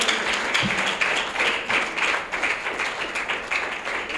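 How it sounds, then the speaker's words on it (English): Audience at a political speech in Nigeria breaking into applause, a dense wash of many hands clapping steadily at moderate volume for several seconds, rising and falling slightly. "Please, another round of applause."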